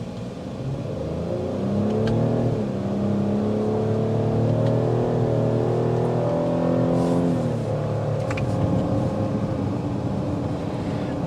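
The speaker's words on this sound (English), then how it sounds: "I like that you get a nice throaty exhaust behind it" A 2023 Cadillac XT6 Sport SUV engine revs up and holds a deep, throaty exhaust drone, steady and loud for several seconds, then eases slightly.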